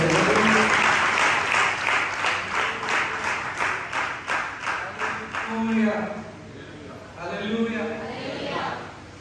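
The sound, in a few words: congregation clapping loudly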